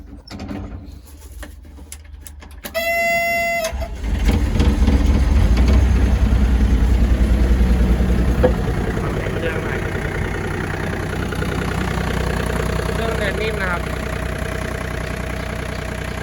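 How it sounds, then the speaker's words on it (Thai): A Komatsu PC30-7 mini excavator with 1,900 hours cranks with a brief whining starter, catches, and settles into a steady, close diesel idle that runs on with a low continuous rumble. "ฟังเสียงเครื่องหน่อยก็ได้ สวิตสตาร์ทจะอยู่ตรงนี้นะครับ"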